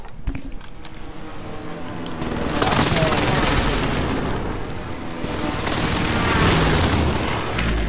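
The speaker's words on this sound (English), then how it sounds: "Allied position airstrike incoming." Airstrike explosions and gunfire in the Call of Duty: Modern Warfare video game, with dense, continuous rumbling booms and rattling shots swelling loud through most of the stretch.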